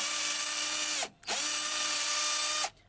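A cordless power drill runs at low speed, as for driving screws, in two loud sustained whirring bursts with a brief stop between them and no talking.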